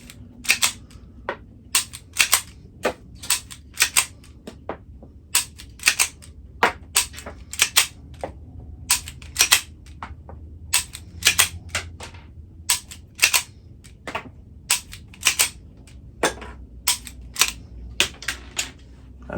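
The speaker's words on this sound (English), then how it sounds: "we are just going to dry fire and cycle through all 10" A pistol is repeatedly dry fired and its slide racked to cycle ten TPU .22 snap caps, giving a steady series of sharp metallic clicks and clacks, close and loud, with no talking.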